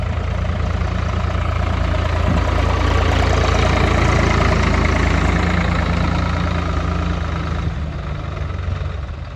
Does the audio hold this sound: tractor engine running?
yes